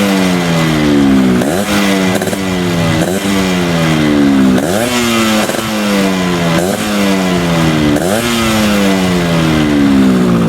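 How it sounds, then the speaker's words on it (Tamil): A Yamaha RX 100 Special Edition two-stroke motorcycle revs hard again and again close by, its raspy exhaust note climbing and dropping in repeated throttle blips that keep the sound loud and continuous. "இந்த வண்டியோட எக்ஸாஸ்ட் நோட் வந்து கேட்டுடலாம்"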